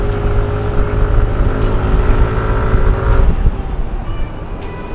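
A 2020 Yamaha NMax scooter accelerates on a road, its engine droning loud and close with a steady, rising tone that eases off near the end, no voices heard.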